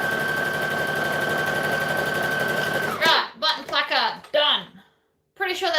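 A sewing machine stitches a button placard in a steady, fast mechanical whir for about three seconds, then stops and a person talks.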